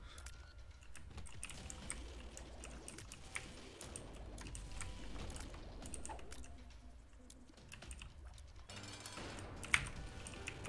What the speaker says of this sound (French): Je sais pas si vous avez entendu comment j'ai mâché mon clavier en fait dans la surprise.